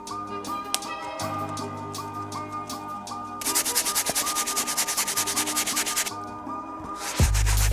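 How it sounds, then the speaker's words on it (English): Brass and stiff bristle brushes scrub the white midsoles of Air Jordan 11 sneakers wet with cleaning solution, giving close, rhythmic rasping strokes that swell into a dense burst of rapid scrubbing midway over steady background tones. "we're gonna be using our rejuvenator brass bristle brush and stiff bristle brush, as well as our rejuvenator solution to get these back to fully white"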